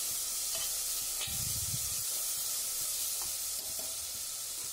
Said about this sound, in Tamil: அரை டீஸ்பூன் மஞ்சத்தூள், அதையும் போட்டுட்டு நல்லா கிளறி விட்டுக்கலாம்.